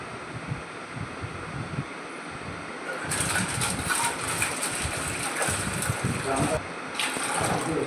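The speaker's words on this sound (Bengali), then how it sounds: "জল দিয়ে ভালো করে ডালটাকে ধুয়ে নিয়ে আবার জল সমেতই বসিয়ে দিলাম" Water gushing over matar dal as it is washed, a rushing broadband splash that swells partway through and runs on with a voice talking over it.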